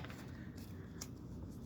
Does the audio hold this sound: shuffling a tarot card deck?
yes